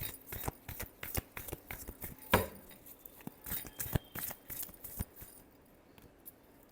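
Tarot cards being shuffled by hand, a close, quiet series of crisp riffling flicks and taps in an uneven rhythm, with one sharper clack midway.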